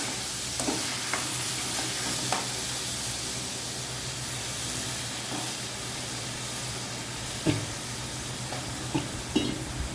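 Drumsticks and tomatoes cook in an Indian drumstick masala curry pan with a continuous close hiss and sizzle, with a few soft stirring knocks scattered through.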